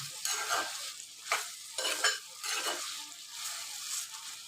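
Eggplant and tomato pieces sizzle steadily in hot oil while a utensil stirs them in several short scraping bursts, close and moderately loud, with no voices.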